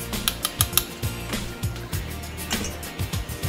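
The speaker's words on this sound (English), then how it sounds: "Going to whisk that up one more time." Whisk beating an egg mixture for steamed Vietnamese egg meatloaf in a bowl, quick rhythmic clicking and scraping against the sides, close up and continuous for a few seconds.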